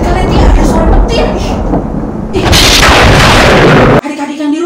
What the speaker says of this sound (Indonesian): Kaget kalian nih ada suara petir.